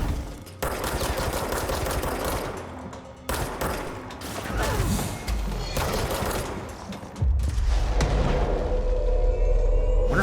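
Weapon fire in the action game Control: rapid bursts of shots broken by short gaps, with heavy low booms and a loud, sustained rumble near the end.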